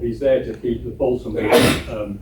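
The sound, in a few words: sneeze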